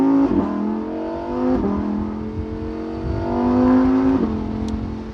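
A 2019 Lamborghini Huracan Evo Spyder running in Strada mode gives a close, steady engine drone whose pitch rises and dips gently in a few smooth swells, with no voices over it.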